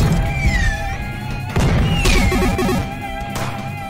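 A cannonball smashes through a room in the Henry Stickmin video game, loud crashing impacts and rumbling debris layered over game music, with a second heavy hit midway.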